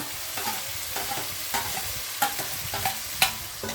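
White mustard and melon seed paste sautés in oil for a Bengali soybean-in-yogurt curry, a low steady sizzle broken by several sharp spatula scrapes and taps against the pan.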